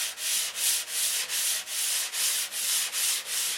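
Sandpaper of 320 grit is rubbed back and forth over doped poly tissue covering, making rhythmic hissing strokes, about nine even passes, close and alone.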